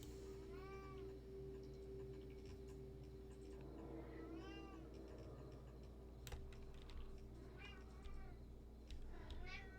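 A cat meows repeatedly nearby, several short separate calls spread across the stretch, over a steady hum with scattered keyboard clicks and ticks.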